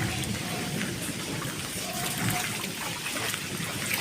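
Heavy rain from a sudden pre-monsoon storm pours down steadily, a dense, even hiss of drops on surfaces that fills the scene without pause.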